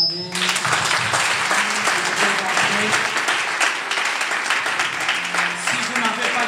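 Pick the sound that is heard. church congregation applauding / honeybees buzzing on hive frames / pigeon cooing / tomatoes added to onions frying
church congregation applauding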